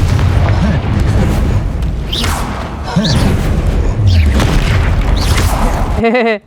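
Spell explosions from the video game Hogwarts Legacy, cast as fire and blasting spells against a troll, sound as loud, repeated booms with whooshing bursts and a rumbling roar. A voice talks and shouts over the blasts.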